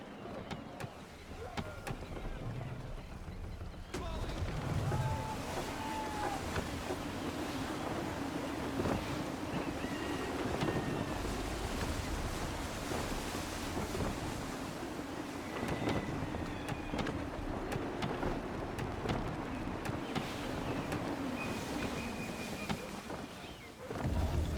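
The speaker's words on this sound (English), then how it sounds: "Wind looks to be shifting. Stay alert, Connor. Gusty winds can be difficult to manage." Gusty wind rushes steadily around a sailing ship on open water in Assassin's Creed III, a continuous broad roar with a low rumble and a few faint tonal creaks and calls over the top.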